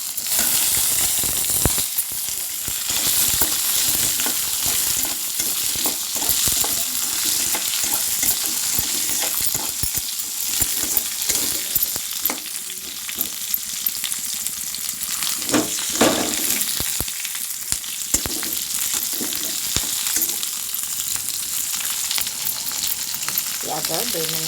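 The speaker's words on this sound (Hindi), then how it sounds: "प्याज 2 मिनट फ्राई" Chopped onions fry in a pan with a steady, loud sizzle and crackle, broken by occasional scraping stirs, and no talking.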